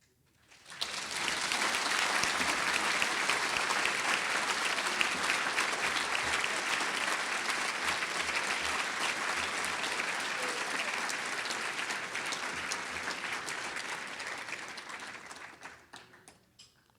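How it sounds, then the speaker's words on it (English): Audience applause after a student symposium keynote address, a long steady roar of many hands clapping that swells in quickly, holds for over ten seconds, then fades away. "So applause is not a question."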